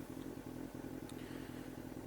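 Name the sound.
Yamaha FZS1000 motorcycle engine idling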